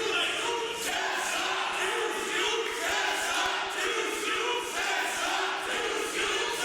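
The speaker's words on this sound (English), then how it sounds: "Listen to the crowd here, Brad." A wrestling crowd at a live match cheers and chants in a rhythmic swell, a dense roar of many voices pulsing steadily throughout at moderate distance.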